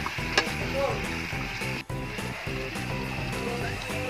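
Kaldereta ingredients with liver spread and soy sauce being stirred in a sizzling pan, a continuous close frying hiss with scraping stirs throughout.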